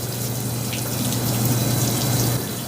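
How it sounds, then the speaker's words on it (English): In a working brewery, water runs steadily over brewing grain during sparging, a constant close rushing and trickling that keeps an even level throughout. "So now we're gonna rinse it. So sparging is literally rinsing."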